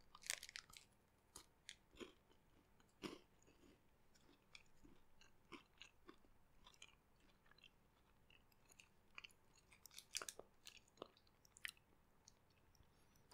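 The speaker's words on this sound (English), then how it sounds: "First bite. I took the bite. I'm crunching." Crunchy bites into a whisky barrel aged KitKat chocolate bar, with sharp snaps and scattered crunching chews at close range, quiet between bursts and busier near the end.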